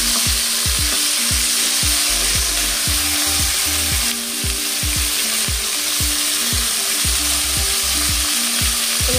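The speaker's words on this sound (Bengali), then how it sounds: "প্রথমে এটা ভাজা করে নেবো আমি সিমগুলোকে।" Green beans cut into pieces frying in a pan, with a loud, close sizzle broken by regular rhythmic scrapes and knocks of a spatula stirring them, and no voices.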